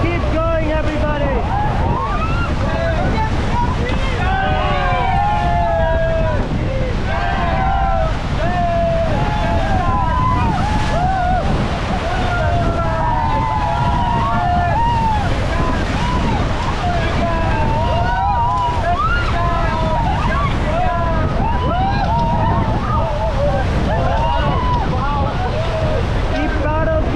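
Raft paddling through river rapids in Rishikesh, with loud continuous rushing water and wind buffeting the microphone, while many voices shout and call out throughout.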